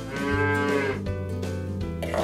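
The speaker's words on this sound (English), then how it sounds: "And this is a cow." A cow moos loudly and close by, a long low drawn-out call followed by a second shorter bellow, with no talking.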